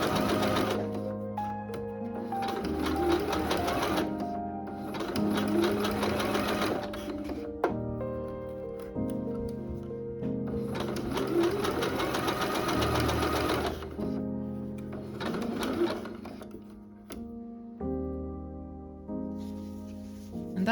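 A sewing machine runs a small zigzag stitch to attach elastic to a bra, with close, steady mechanical whirring in repeated bursts separated by brief pauses.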